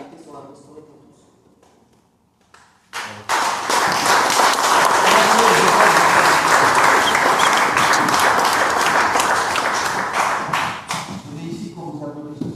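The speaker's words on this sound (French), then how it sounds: "On est ici pour vous applaudir aussi avec les couleurs." Sustained crowd applause at a June 18 commemoration ceremony honouring the General in Nogent, a loud, dense burst of clapping lasting about eight seconds before fading, with speech before and after.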